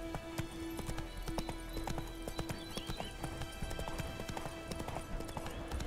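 Roach, the horse in The Witcher 3, gallops in a steady rapid clip-clop of hooves, close and moderately loud, with brief whinnies and game background sounds underneath.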